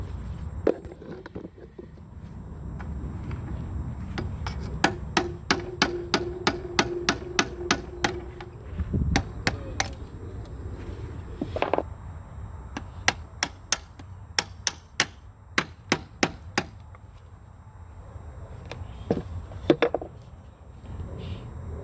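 A hammer drives out the pin of the fifth-gear selector fork on a 20DL32 gearbox from a 2.0 HDi, striking metal in quick, sharp rhythmic bursts with short pauses, loud and close in a workshop.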